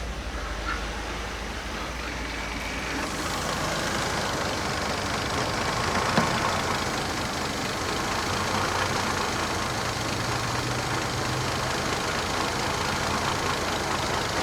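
A Mercedes coupe engine idles steadily at operating temperature, settled down to about 500 rpm, with a low, even rumble and mechanical hum that runs without a break and without talk.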